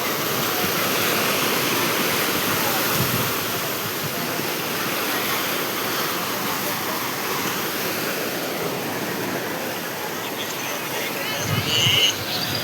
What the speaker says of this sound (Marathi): ह्या साईडला पण पाण्याच्या लाटा बघा किती भारी आहे.